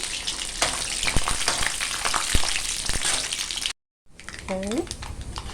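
Chana dal, mustard seeds and tempering seeds crackling and sizzling in hot oil, a steady close frying hiss with sharp pops, briefly cut off before resuming as a voice speaks over it.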